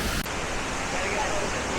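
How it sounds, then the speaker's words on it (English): Kuang Si waterfall near Luang Prabang roars as a dense, constant wash of falling water, close and fairly loud, with a brief voice-like blip near the start. "These waterfalls are breathtaking."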